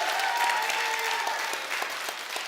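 Audience in a church recovery-talk setting applauding steadily throughout, a dense, sustained clatter of many hands with a faint hum beneath, no voices over it.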